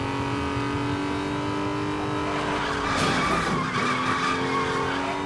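A BMW M3 GTR in Need for Speed Most Wanted skidding with tyre squeal over a constant high engine drone, loud and continuous, the screech swelling midway through.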